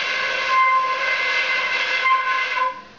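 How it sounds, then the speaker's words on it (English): A bansuri flute overblown with too much force gives a shrill, harsh, whistle-like tone, sustained loudly for several seconds before tapering off, heard alone. "If you blow with more force with your mouth like you're blowing a whistle, then it will sound bad like this."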